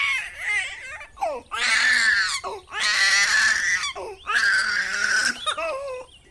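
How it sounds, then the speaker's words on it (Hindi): A hungry baby girl cries in three long, loud bursts with short gasping gaps between them, close and unbroken by any talk. "गुड़िया भूख से फिर रोने लगती है,"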